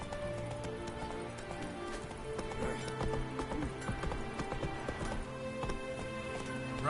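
Roach, the horse in The Witcher 3 video game, gallops with continuous rapid clip-clop hoofbeats and an occasional whinny, fairly close and steady over in-game ambience.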